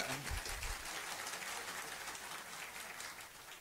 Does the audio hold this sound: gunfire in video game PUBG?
no